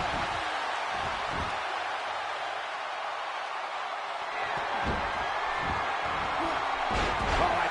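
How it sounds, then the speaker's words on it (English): Arena crowd in the WWE 2K17 wrestling game roars steadily through the whole stretch, a dense continuous wash of cheering with a few thuds and slams from the ring, while commentary runs over it. "Listen to this crowd, King."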